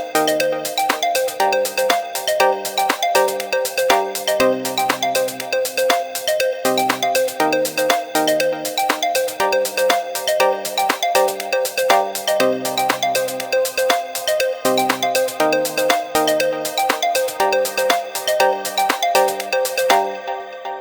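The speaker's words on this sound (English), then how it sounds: "So I'm gonna play my drum loop with it" A drum loop played back in Ableton Live 9 sounds as a steady, dense, loud rhythm of crisp hits layered with bright tonal parts, running without pause for about twenty seconds before ending abruptly.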